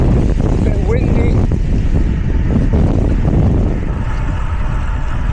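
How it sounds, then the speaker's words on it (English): Steady, loud wind buffets the microphone while cycling on a quiet desert road, a constant dense roar with faint thuds and no letup. "A bit windy."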